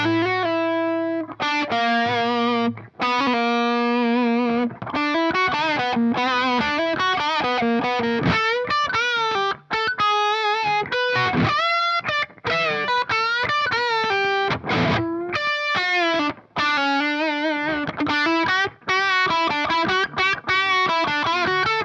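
An electric guitar played through an analog amplifier and pedal, a distorted, sustained lead line of fast runs and held notes, loud and continuous with brief pauses, no voices.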